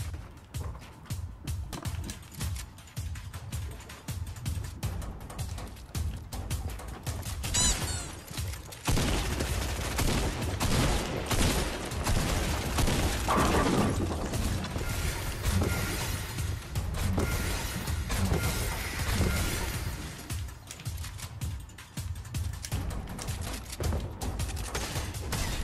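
Bursts of gunfire and crashing effects from a Fortnite match, dense and continuous with shots and impacts layered over game noise at moderate level, no voices on top.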